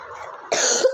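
A person with a fever coughs, a short, hoarse throat-clearing rumble followed by a sharper, louder harsh cough burst up close, alone without speech.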